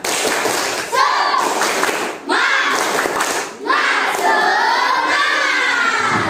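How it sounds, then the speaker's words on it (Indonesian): A class of children in an Indonesian classroom performs the 'tepuk semangat' clapping chant, loud bursts of rhythmic claps and shouted chanting in three phrases separated by brief pauses, with a teacher's voice leading. "Oke, sekali lagi tepuk semangat"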